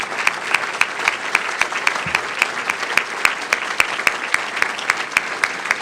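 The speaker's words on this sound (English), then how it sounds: "give everyone a round of applause" Sustained applause from an audience at a Chicago Public Schools event, many hands clapping steadily with sharp claps standing out over a dense, even patter for the whole stretch.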